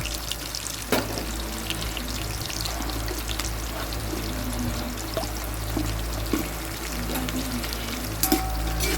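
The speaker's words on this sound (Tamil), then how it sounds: "ஆனியன் வந்து நல்லா ஃப்ரை ஆகிற வெயிட் பண்ணலாம்" Onions frying in ghee with cinnamon, cloves, cardamom and bay leaf for chicken biryani on a rooftop, a steady close sizzle with occasional faint clinks.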